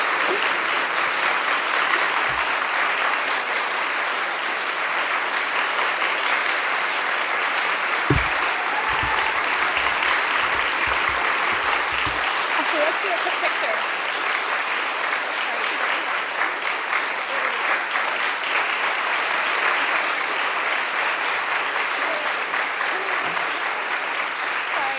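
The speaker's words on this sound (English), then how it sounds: "you can all applaud now if you want to." Steady applause from an audience welcoming an award recipient onstage at a visionary-of-the-year ceremony, a dense wash of clapping held for about 25 seconds with a few low thumps.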